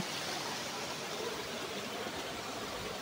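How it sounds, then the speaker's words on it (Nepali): The Marid Khola stream rushes steadily near the entrance to the Gupteshwor (Marideshwor) Mahadev cave, a continuous close hiss of flowing water with no break and no voices. "यता मरिड खोला सुसाएर कलकल गरेर बगिरहेकी छिन्।"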